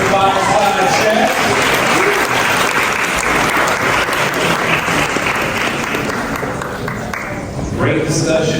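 Loud, full applause from the audience at a national AANHPI business summit, a thick continuous roar of many hands that carries on for several seconds before easing slightly, with a voice speaking faintly over it at the start.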